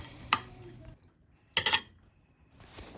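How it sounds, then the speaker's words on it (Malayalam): A metal spoon clinks against a bowl while dry fruits for a plum cake are mixed: three separate, close scraping and clinking bursts with short pauses between them. "ഇത് നന്നായി ഒന്ന് സ്പൂൺ കൊണ്ട് ഒന്ന് മിക്സ് ചെയ്ത് കൊടുക്കാം"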